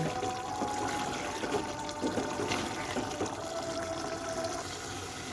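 Water poured into a pan of fried boiled potatoes for a curry gravy makes a faint, steady liquid splashing and sizzling wash that continues evenly throughout, with no talk.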